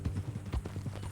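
Horse hooves clip-clop steadily in Red Dead Redemption 2, a close, quick run of hollow thuds in an even trotting rhythm with no talk over them.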